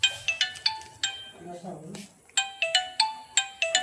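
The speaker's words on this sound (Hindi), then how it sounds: "मम्मी के आई फोन पे गाइस कॉल आ चुकी है" An iPhone ringtone signals an incoming call in a home, its bright repeating chime notes sounding in short regular bursts, briefly broken by a mumbled voice in the middle.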